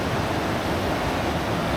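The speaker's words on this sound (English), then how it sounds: "I've also got a nice little waterfall over there with a lot of moss covered rocks." A small waterfall at Conwy Falls in Wales pours over moss-covered rocks, a steady broadband rushing wash that stays even and continuous throughout with no voices.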